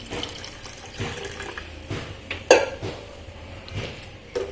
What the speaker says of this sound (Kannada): ಈಗ ಇದಕ್ಕೆ ಒಂದು ಜರ್ಗಿ ಅಷ್ಟು ನೀರು ಹಾಕೋತೇನೆ